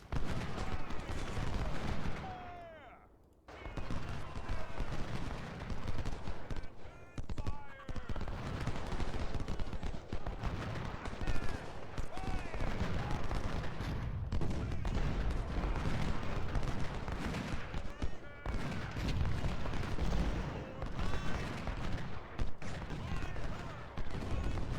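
A Civil War battle at Gettysburg in the Ultimate General game brings continuous rolling musket volleys and booming artillery fire, dense and loud for the whole stretch, with a short lull early on and a voice talking over the gunfire.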